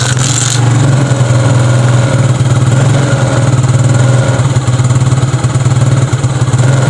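Motorcycle engine idling while warming up before an early-morning ride, a loud, close, steady low throb with a continuous mechanical chatter over it and no voices.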